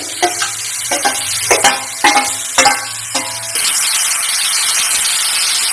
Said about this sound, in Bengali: আমার যে গ্রেট করে রাখা মূলটা, এটা কিন্তু সম্পূর্ণটা ঢেলে দেব। আমি সরষের তেলে করছি